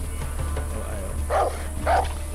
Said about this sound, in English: I've been spotted by the dog.